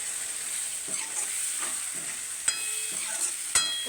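Tomatoes and peas with masala fry in hot oil, a steady close sizzle with occasional sharp scrapes and clinks of a spoon stirring the pan.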